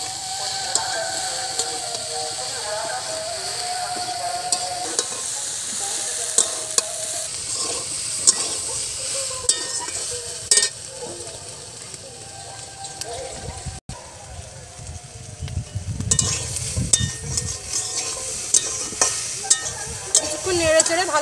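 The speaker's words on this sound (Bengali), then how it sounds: "কিছুক্ষণ নেড়ে চেড়ে ভালো করে কষিয়ে নিয়েছি" Pumpkin greens with turmeric and chopped green chili are stirred and fried in a pan, a continuous sizzling hiss with repeated scraping and clatter of the spatula, louder bursts of frying midway, and a voice speaking at times.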